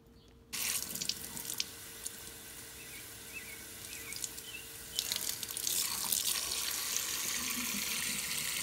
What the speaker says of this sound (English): And then I fill this empty bottle with water.